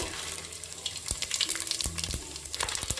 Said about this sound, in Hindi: तो तेल गर्म होने के बाद सबसे पहले मैं ये खड़े मसाले ऐड करूँगी